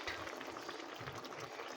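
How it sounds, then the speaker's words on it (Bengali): Quiet, steady bubbling of a thick bottle gourd curry simmering in a pot, a soft continuous gurgle close by. "এই যে লাউয়ের তরকারি ফুটছে"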